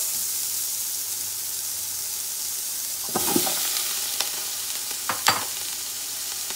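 A pan sizzles with a constant loud hiss as chopped cabbage goes in with ground turkey for chow mein, and a few sharp spatula scrapes and tosses cut through the frying.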